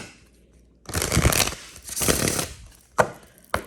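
A deck of tarot cards being shuffled by hand in a quiet room, two longer riffling bursts followed by two short sharp taps as the cards settle, no voice over it.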